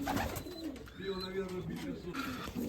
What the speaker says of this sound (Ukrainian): Отакі голубочки.